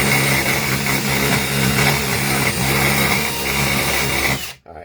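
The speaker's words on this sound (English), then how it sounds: "so I take my drill bit and I go sideways" Power drill spinning a bit held sideways to take burrs off a drilled hole in a metal body, a loud steady whine with slight grinding changes, close up, stopping abruptly at the end.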